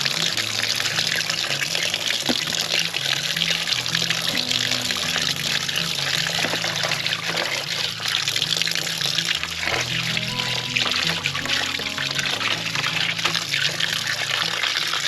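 Running water gushes steadily from a tap while a green luffa sponge sheet is rinsed and worked by hand, a continuous close splashing and pouring with occasional shifts in flow and no talking.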